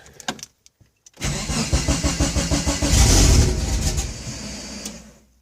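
A car with an upgraded E85 fuel system cranks with a rhythmic, loud starter churn, then catches and fires, revving up and settling into a steady running engine, heard up close without talk.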